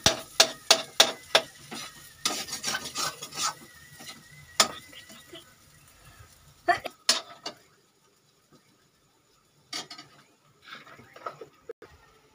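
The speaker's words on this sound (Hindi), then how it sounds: "अब 15 मिनट तक इसको भून लो अच्छे से" Spices with garam masala fried in a pan, heard as a quick run of sharp scraping and clicking stirring strokes with a light sizzle, fading to near silence with a few scattered knocks near the end.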